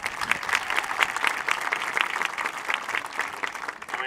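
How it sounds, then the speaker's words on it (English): An audience at a school Parents Day event claps in a dense, steady round of applause that stays fairly loud and even for the whole stretch, with no talking over it. "Let's still applaud them, however."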